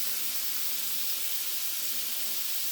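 Vegetables seasoned with onion powder, garlic powder and pepper sauté in a pan for a beef vegetable soup, giving a steady, even hiss with no breaks and no voices.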